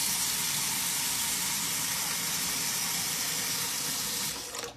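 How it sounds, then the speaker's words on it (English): Steady, close cold water pouring from a tap into a bowl of homemade butter, a continuous rushing stream that cuts off abruptly at the end. "I'm going to run some more cold water in here."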